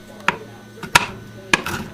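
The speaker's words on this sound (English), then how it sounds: "I'll get to work chopping" A knife chops pecans by hand on a cutting board, with three sharp, separate knocks spaced unevenly. The chops are close and crisp against a quiet background.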